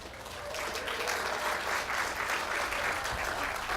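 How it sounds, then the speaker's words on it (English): Applause from an audience at a city State of the City event in Sunnyvale swells quickly and holds as a steady, dense clapping from a large room of people. "so we got Ben in first with the clap"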